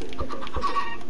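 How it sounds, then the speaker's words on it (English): A Minecraft chicken clucks in a short burst of two or three quick notes, fairly close and clear, with no talk over it. "I heard a rooster cry for help"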